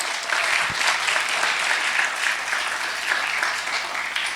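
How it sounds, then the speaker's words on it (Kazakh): An audience at a Karakalpak stand-up comedy show claps in a steady, dense round of applause that stays even and full from start to finish, with no voice over it. "Тек арасында шапалақ ұруға ерінбесеңіз болды."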